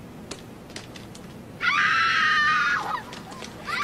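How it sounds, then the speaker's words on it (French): A sound-effect scream bursts out, a sustained high shrill cry lasting just over a second, preceded and followed by faint clicks and light background noise. "Il me faut des cris"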